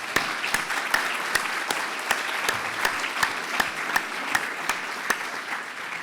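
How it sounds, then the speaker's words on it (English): Audience applause at a patient information day for clinicians who gave up their Saturday, a sustained wash of clapping with distinct individual claps popping out regularly. "I think we need to give them a round of applause"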